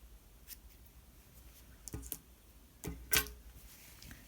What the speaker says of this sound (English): Now I can cut the yarn tail.